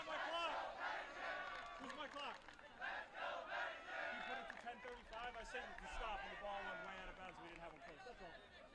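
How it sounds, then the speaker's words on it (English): A home student crowd chants rhythmically in support of Pennington at a girls' prep soccer championship, many voices rising and falling in repeated call-like phrases, fairly close and loud throughout. "The chant is "Let's go Pennington" from the hometown crowd."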